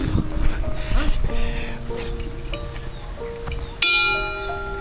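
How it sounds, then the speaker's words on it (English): The bell of love at Ghibli Park in Aichi, Japan clangs and rings out with lingering metallic tones, struck a few times outdoors under people talking nearby. "Oh Kelly, I'm gonna ring the bell of love"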